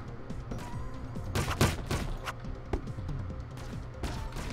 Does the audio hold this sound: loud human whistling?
no